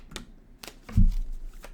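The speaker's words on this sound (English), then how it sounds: "One more shuffle." A quick riffle of cards with a few soft flutters, ending in a thicker, fuller burst of shuffling, close and fairly quiet.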